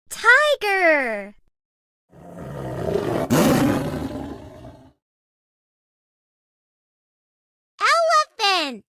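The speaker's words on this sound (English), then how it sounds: "Tiger." A tiger's deep, rough roar rises and fades over about three seconds, loud and close, set between a child's short spoken words at the start and end.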